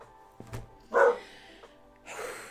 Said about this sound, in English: Now she's barking out the window again.